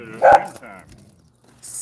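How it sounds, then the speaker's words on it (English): Dogs barking loudly indoors, a single sharp bark followed by a few softer yips and a brief pause, close to the listener. "we might have to go in the backyard to talk because these dogs are excessively loud"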